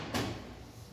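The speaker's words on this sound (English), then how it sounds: "and you'll be able to open up the engine compartment." A single truck engine compartment door unlatches and swings open with a short clunk, followed by a brief fading rattle.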